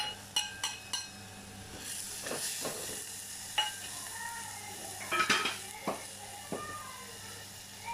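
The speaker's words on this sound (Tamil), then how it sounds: "நம்ம இதை கிண்டி விட்டுக்கலாம்." Vegetables for a Chettinad vathakuzhambu, with tomato just added, stirred in a pan: metal spoon clinks and scrapes against the pan over a low steady sizzle, with a few sharper knocks.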